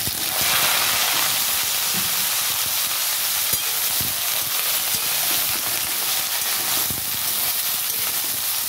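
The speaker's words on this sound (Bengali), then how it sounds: "জাস্ট একটু রাঁধুনি দিয়ে আমি বেগুনটা ভেজে নেব বন্ধুরা" Eggplant frying in hot oil with radhuni spice, a loud, steady hiss and crackle of sizzling that holds through the whole stretch with a few soft stirring knocks and no speech.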